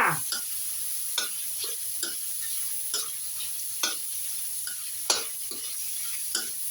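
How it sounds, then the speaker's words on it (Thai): Squid stir-fried with long beans and shrimp paste, a steady close sizzle broken by repeated scraping stirs in a loose rhythm, with no one talking. "ผัดให้หอมเลยจ้า"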